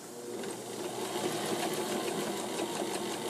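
A sewing machine runs steadily, stitching fabric for a drawstring backpack made from a t-shirt, with a continuous close, even motor hum and rapid needle rhythm throughout.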